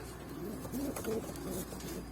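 Pet pigeons coo softly in low, rolling murmurs, faint and near, against a steady background hum with no talking.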